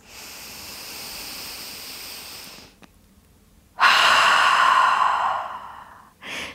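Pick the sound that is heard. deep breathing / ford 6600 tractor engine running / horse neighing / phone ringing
deep breathing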